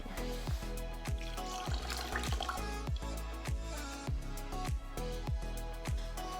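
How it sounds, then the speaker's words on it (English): Water from a sink tap falls in a rhythmic series of distinct drips and splashes, roughly two per second, close and fairly quiet with no talking. "I need to get some water from my sink"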